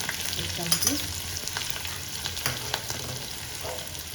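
Curry leaves and green chillies sizzle steadily in hot oil for a dhokla tempering, a continuous close crackle with a few brief sharper pops and no talk.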